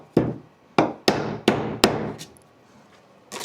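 Staples are hammered into wooden beehive boxes with five sharp, close hammer blows in an uneven rhythm, each one ringing briefly, followed by a pause and then one more strike.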